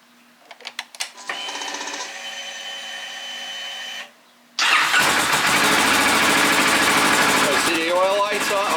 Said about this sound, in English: What I want to do is run the engine.